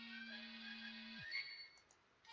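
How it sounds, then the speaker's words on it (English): A mobile phone ringtone goes off, a quiet electronic tone that holds steady for about a second before cutting off, leaving faint ticks and near-silence. "I nearly jump out of my skin as my phone goes off."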